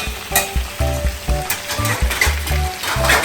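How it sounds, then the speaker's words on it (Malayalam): Chicken frying for biryani crackles loudly in a pan, with a rhythmic series of low thumps and scrapes from stirring repeating roughly every half second over the sizzle. "ചിക്കൻ റൗണ്ട് എടുത്ത് ഞാൻ മറച്ചിട്ട് നല്ലപോലെ ഫ്രൈ ആയിട്ടില്ല കേട്ടോ"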